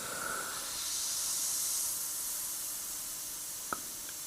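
Evolution CRplus airbrush with a 0.45mm setup spraying paint at 20 psi, a steady soft hiss of air running throughout with a brief faint click near the end.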